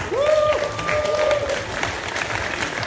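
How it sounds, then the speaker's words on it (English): Audience applause at a boxing press conference for Manny Pacquiao vs Lucas Matthysse, steady dense clapping throughout with a brief tonal whistle-like sweep and faint voices early on. "May we have a big round of applause"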